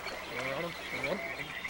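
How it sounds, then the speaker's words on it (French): A cartoon frog croaks in a quick run of throaty, wobbling calls, close and clear over a faint background hiss. "cette grenouille parle un drôle de dialecte"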